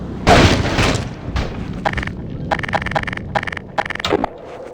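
A rocket launcher explosion in the video game Half-Life 2: Lost Coast, one loud close boom followed by scraping debris and bursts of rapid gunfire.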